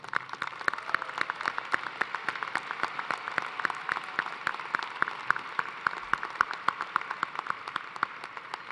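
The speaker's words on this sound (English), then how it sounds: "So join me in a round of applause" An audience at a university engineering commencement gives a round of applause, steady crowd clapping with crisp individual claps throughout, heard from a moderate distance and sustained for the whole span without speech.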